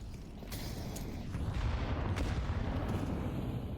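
Grenade blasts in a Counter-Strike match, a dense, loud run of booming bursts that rumble continuously through the clip without a break.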